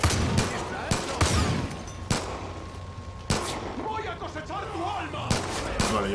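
Gunfire in the video game Far Cry 5 comes as several sharp, loud shots and bursts spaced irregularly across a few seconds, with players talking between them.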